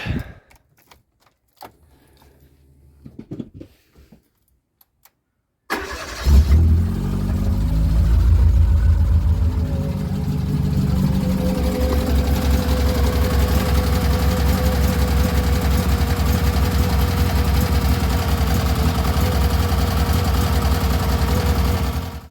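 Fiat Cinquecento Trofeo engine cranking and catching after a few quiet clicks and key jingles, then settling into a loud, steady idle hum that runs on alone.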